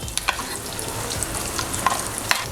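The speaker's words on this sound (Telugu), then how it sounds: "కొత్తిమీర అలా చిటపట్లాడిన తర్వాత ముందుగా గ్రైండ్ చేసుకొని పెట్టుకున్నటువంటి చట్నీని ఈ తాలింపులో వేసుకుందాము" Coriander leaves crackle in hot oil while tempering a coconut chutney, a close sizzle dotted with sharp pops and spoon clicks in a short burst, with no speech.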